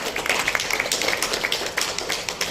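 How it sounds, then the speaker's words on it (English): An audience at a National Association for the Blind gathering in Tamil Nadu claps for the President, a dense, close patter of many hands held at a steady level throughout. "So one applause to the President now"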